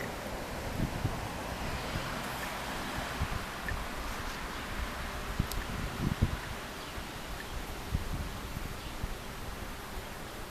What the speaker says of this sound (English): I'm outside and the wind is blowing